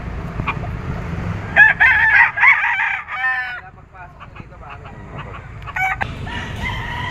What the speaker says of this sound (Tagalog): Boss Ray, ilan yung mga dala yung manok ngayon?